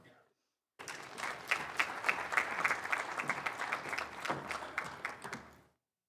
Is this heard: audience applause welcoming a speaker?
yes